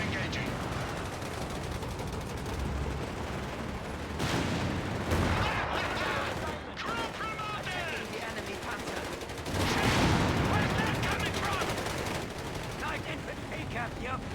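Sustained battlefield gunfire from Company of Heroes, with rattling rifle and machine-gun bursts and heavy Panzer IV tank cannon blasts, loud and continuous, swelling at intervals, with game voice lines heard over the combat.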